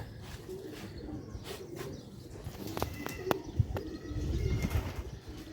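Several pigeons, one of them broad-headed, coo in low repeated calls close by. Brief chirps and a flutter of wings cut in, and the cooing grows denser toward the end.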